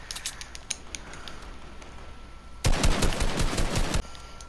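Rapid automatic gunfire in Fortnite, a sharp sustained burst of close, loud shots lasting over a second, preceded by scattered fainter distant pops.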